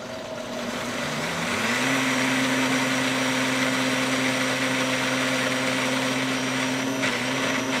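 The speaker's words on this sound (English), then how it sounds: "we're going to put the top on and we're going to blend this for like 20 seconds" Vitamix blender whirring through a cottage cheese dip, a loud steady motor roar that rises in pitch as it gets up to speed after a couple of seconds, then holds constant with no talking.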